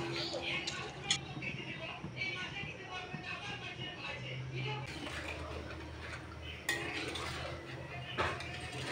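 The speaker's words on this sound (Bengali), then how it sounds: "এখানে ডালটা দেওয়ার পরে আবার আমি ঘেটে নিচ্ছি" A spoon stirs boiled dal (lentils) in a cooking pot, giving faint scraping and occasional light clinks against the metal, quiet and close, with low voices in the background.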